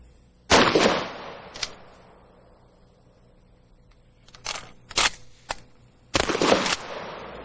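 Shotgun blasts from conventional birdshot rounds at an outdoor range: loud, close reports with decaying tails, a lone shot, then a scattered cluster of cracks and a final pair of heavy booms.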